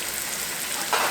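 Yellow squash fries in a pan with a steady, close hiss of sizzling oil and a slightly louder crackling burst near the end, no voices present.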